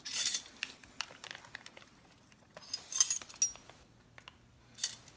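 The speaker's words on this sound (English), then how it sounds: "stir as fast as we can" Quick clinks and taps of a spoon stirring yeast into mixtures in containers for a science fair experiment, scattered bright metallic and glassy hits in irregular bursts with quiet gaps between, fairly faint and close.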